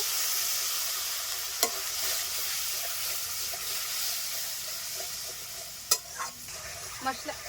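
Spice paste of coriander powder, dried chilli powder and salt sautés with a little water in a pan, a soft steady sizzle with a few sharp utensil taps and scrapes.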